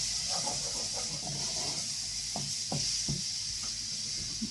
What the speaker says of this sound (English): this is browning off beautifully